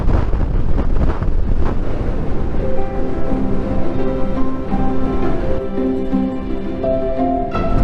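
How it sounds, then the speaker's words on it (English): Strong wind buffets the microphone on a motorcycle camping trip near a closed national park in eastern Canada, a loud continuous roar with gusty swells throughout and no voices. "It's quite the wind."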